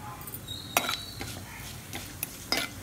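Cumin and fennel seeds fry in hot oil alongside mustard seeds, with a soft sizzle underneath and several sharp spoon or pan clinks as they are stirred.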